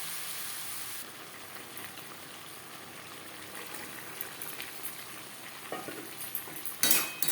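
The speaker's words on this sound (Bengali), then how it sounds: "ফোড়নের সাথে সবজি বেশ ভালো করে মিক্সড করে দেব।" Mixed vegetables frying with tempering spices in a pan for a Bengali niramish panch mishali sabji, stirred through a steady close sizzle, with scraping spikes near the end.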